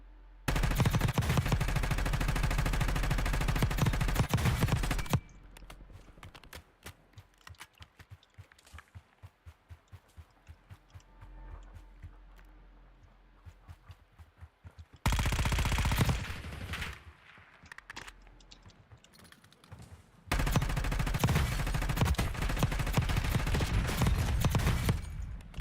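Long, loud bursts of automatic gunfire in a video game, separated by quieter stretches of rapid footsteps and lighter shots before the heavy firing resumes.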